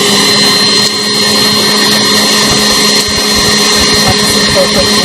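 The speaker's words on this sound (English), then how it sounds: "Now I'm just going to whisk that a little bit faster now just to get the top of it." An electric whisk beats meringue fast, mixed with vinegar and cornstarch, giving a loud, steady mechanical whir close by, with faint talking underneath.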